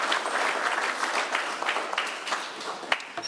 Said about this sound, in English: Another round of applause to our Commissioner General.